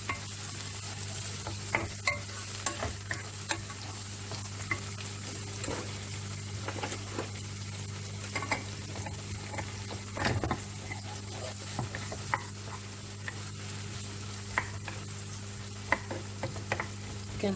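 Diced onions, two of them, cook and get stirred in a pan for stuffed cabbage rolls, giving a soft steady sizzle with scattered scraping and stirring clicks throughout, under a low constant hum, with no talking.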